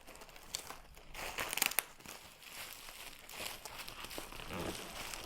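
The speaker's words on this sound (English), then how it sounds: "looks like after I open this plastic, there is also a box inside" Plastic wrapping on a chess set box is torn and crinkled open at close range, with irregular bursts of crackling and rustling that peak sharply partway through and then continue more softly.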